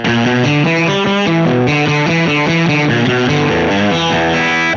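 Electric guitar through a classic distortion pedal, heavily distorted with thick fuzz, playing a steady run of single-note riffs, loud and sustained throughout.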